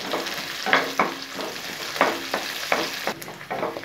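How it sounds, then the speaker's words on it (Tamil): Onion and 20 to 25 garlic cloves sautéing in oil for a garlic curry, a soft steady sizzle punctuated by regular scraping stirs of a spoon in the pan, no voices. "ஒரு 20லிருந்து 25 பல்லு பூண்டு போட்டுட்டு இதையும் நல்லா வதக்கலாம்"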